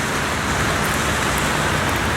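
Steady pouring rain from the video game Heavy Rain, a dense, even hiss that fills the whole stretch without pause or voices.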